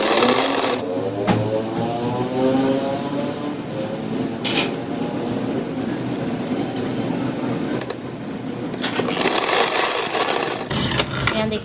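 Sewing machine stitching across the corner of a fabric piece for a boat neck design with samosa triangles: a continuous rapid mechanical chatter, close and fairly loud, punctuated by a few sharp clicks and knocks.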